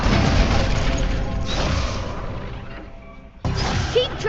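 Incendio fire spell cast in the Hogwarts Legacy video game, a loud roaring whoosh that tapers off, then a second sharp burst restarts abruptly near the end.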